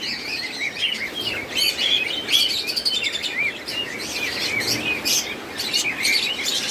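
Caged lovebirds, budgies and other pet birds at a bird market chirp and tweet continuously, many overlapping calls forming a busy bright chorus, with no talking.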